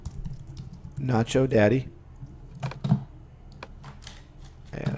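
Someone types on a computer keyboard in quick bursts of clicks, close and crisp, with scattered single keystrokes between them. A person speaks briefly over the typing.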